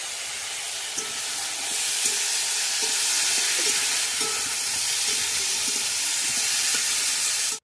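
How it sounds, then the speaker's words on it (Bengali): Ridge gourd stirred in a hot pan with turmeric and slit green chillies, a steady loud sizzle and hiss throughout with occasional soft scrapes of the spoon, no talking. "ভালো করে নেড়ে নেব"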